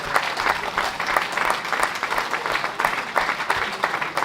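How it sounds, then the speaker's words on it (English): Audience at a Rochdale AFC fans' forum applauding, dense continuous clapping from a room full of people, loud and sustained throughout with no talking over it. "Round of applause, please,"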